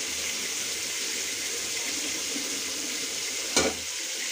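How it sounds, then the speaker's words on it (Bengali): Sliced radish fries in hot oil for a Bengali rohu fish sour dish, a steady close hiss and sizzle with one brief clatter of a utensil near the end. "দেখেন আমার মূলাটা কষতেছে, দেখছেন তেল উঠে আসছে"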